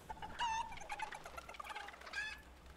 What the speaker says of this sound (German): Nein! Huhn! Huhn!